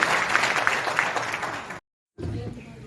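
Seminar audience in Ghazipur breaks into vigorous clapping that fills the room for under two seconds, then cuts off abruptly before quieter room sound resumes.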